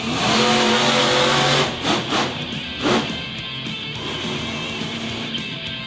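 A monster truck engine revs hard at a night competition in Middletown, NY, a loud, sustained roar with a few sharp surges, close and continuous throughout.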